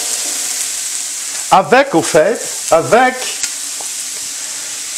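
Two small diced onions sauté in a pan with a steady, soft sizzle throughout while a person speaks briefly over it.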